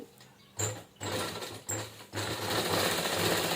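A sewing machine stitches a cloth tiffin bag in short runs: a near, whirring mechanical chatter that starts and stops in several bursts before settling into one longer continuous stretch.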